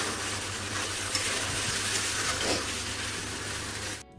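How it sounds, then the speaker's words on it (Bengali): Potatoes being stir-fried in a pan in a home kitchen, a continuous sizzle with occasional scrapes of a spatula against the pan, close and steady until the sound cuts off abruptly near the end. "আলুটা কষাচ্ছি"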